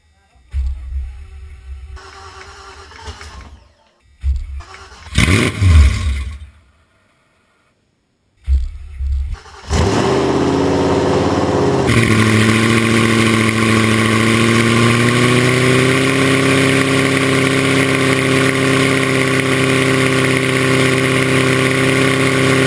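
A Fox Body Mustang with a swapped Coyote engine cranks after a few brief starter bursts and short gaps, then fires up loud and close and settles into a steady, rumbling idle. Voices can be heard early on.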